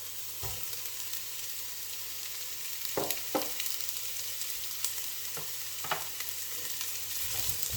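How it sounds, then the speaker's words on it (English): Chopped carrot and red pepper stirred in a pot for kale miso soup: soft sizzling with a handful of distinct spoon knocks and scrapes, close and fairly quiet, no voices. "give it a little stir"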